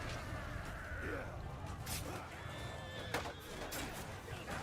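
A horse neighs and whinnies amid a busy Mount & Blade II: Bannerlord battle soundscape, with faint hoof sounds and clatter in the background.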